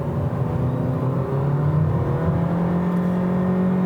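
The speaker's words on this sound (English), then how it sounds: "You can see the gas engine is screaming along" The gas engine of a 2018 Honda Clarity plug-in hybrid drones steadily at full throttle under hard acceleration, a loud, sustained whir whose pitch climbs slowly, with no voices.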